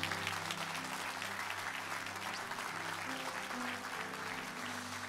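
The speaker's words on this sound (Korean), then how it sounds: "큰 박수로 모든 임직자를 다시 한번 뜨겁게 축복하도록 하겠습니다" Steady applause from a large church congregation at an ordination service fills the room, continuous and even, with a faint low hum underneath.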